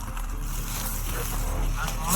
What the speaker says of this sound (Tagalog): Yun yung motor na nakasunod sa akin kanina.